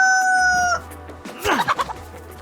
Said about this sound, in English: Chickens, on the other hand, are easy kills and their deafening screech can be heard from quite a distance.